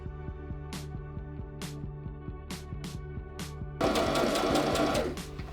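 A sewing machine stitches over the straps of a bag made from a T-shirt, running in several short close bursts separated by brief pauses, then a longer sustained run near the end.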